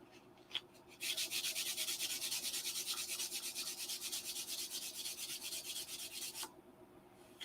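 Hand sanding on the stabilizer of a half-scale Cobra model, a brisk rhythmic rasping of quick back-and-forth strokes, close and continuous for several seconds before stopping.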